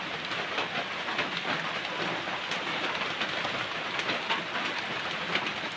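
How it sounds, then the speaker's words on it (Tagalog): Steady rain falls continuously, a dense hiss with occasional louder drops, no voices. "Umuulan na lang lagi."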